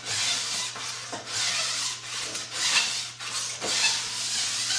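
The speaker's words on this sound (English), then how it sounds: "you're continuing on this edge using a file that's finer than the Panzer, but still fairly coarse" A fairly coarse hand file worked along the sidewall edge of a ski during tuning, giving steady, close, raspy scraping strokes in a regular back-and-forth rhythm of about one stroke per second, heard alone.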